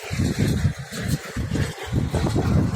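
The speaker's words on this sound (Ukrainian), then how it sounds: "Трактор Т-3069, прес Фамарол. Йде на замедльонний, бо покоси навальні." A T-3069 tractor pulls a Famarol hay baler at slow speed through a hayfield, its engine a steady low rumble with wind buffeting the microphone.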